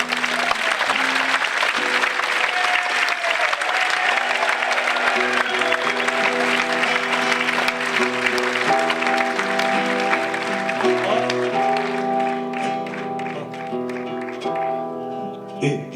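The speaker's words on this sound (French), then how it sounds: "Va, les applaudis très fort." Audience applause at a sixtieth birthday celebration, a dense, lively clapping crowd that gradually thins as music and voices rise underneath, ending with sparse claps.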